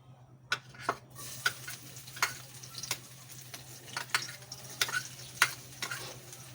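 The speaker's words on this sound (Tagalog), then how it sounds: "Bawang kasi unang ginigisa ko mga lods eh." Garlic sautéing in a home cooking pan, with periodic scraping and stirring clicks over a faint steady sizzle and a low hum, no one speaking.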